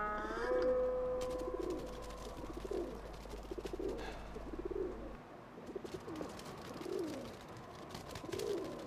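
Pigeons or doves cooing in a soft, repeated rhythm, each low burbling call recurring every second or so at moderate distance, over a faint background hum.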